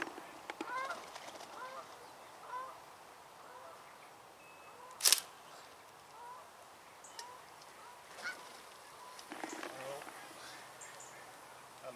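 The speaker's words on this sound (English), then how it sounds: "Seagulls, they're on it straight away." Seagulls gather over a lake while fishing bait is thrown, giving scattered cries at a distance over quiet background, with a sharp nearby click and a few louder calls in between.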